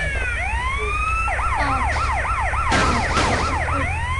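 A Grand Theft Auto ambulance siren wails in steady, repeated rising and falling sweeps, loud and continuous, with a brief noisy burst partway through.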